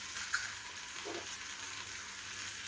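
Food fries in a pan at breakfast time with a soft, steady sizzling hiss, faint and even throughout with one small spit near the start.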